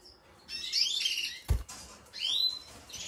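Spanish-breed canaries sing in short bright chirping phrases and warbled trills, close and clear, separated by a brief soft knock.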